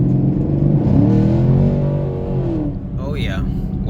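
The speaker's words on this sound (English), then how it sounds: "let's go ahead and finish this video off with a short test drive of the car" A 2016 Chevrolet Camaro SS accelerating hard on a test drive from around 32 mph, its engine note climbing loudly, then dropping back as a voice comes in briefly near the end.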